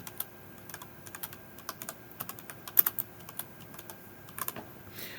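A computer keyboard being typed on in short bursts of separate key clicks with small pauses, close and fairly quiet, as words are entered into a document title.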